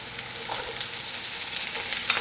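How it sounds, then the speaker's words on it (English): Pea pods stir frying on high heat for beef lo mein, a steady close sizzle and crackle of oil with faint stirring scrapes and a couple of louder clatters at the end. "I'm going to stir fry this with the pea pods."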